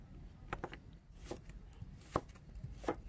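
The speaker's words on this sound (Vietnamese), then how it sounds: "thì mình sẽ xắt xắt cái dạng sợi đó quý vị" A kitchen knife slices vegetables into thin strips for a vegetarian stir-fried rice noodle dish, giving faint, scattered taps against the board at an irregular pace.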